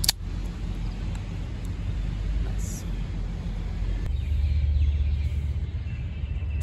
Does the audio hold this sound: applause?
no